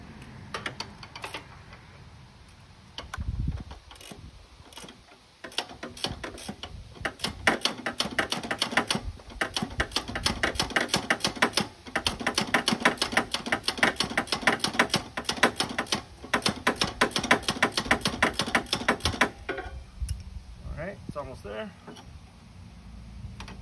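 A bolt being spun out with a ratcheting tool, rapid loud clicking bursts in long runs with short pauses, close by, then stopping near the end.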